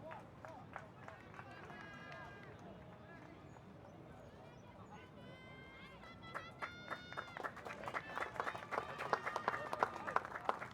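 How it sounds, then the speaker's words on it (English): Crowd at an Asia Rugby Sevens Trophy match between Jordan and Indonesia applauds an injured Indonesian player being stretchered off, distant clapping rising and growing louder toward the end, with spectators' voices mixed in. "Applause there for that injured player who's being stretchered off"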